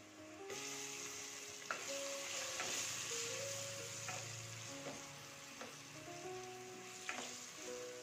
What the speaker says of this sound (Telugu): అందుకని ఇప్పుడు దీనిలో 3 పచ్చిమిరపకాయలు వేసుకున్నాం.